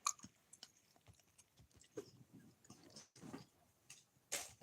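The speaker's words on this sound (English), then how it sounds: "you hear Huggle in the background because he's chewing on something." A dog named Huggle gnaws on something, producing irregular soft crunches and clicky bites at moderate distance, with a few louder chomps scattered through the stretch and no talking.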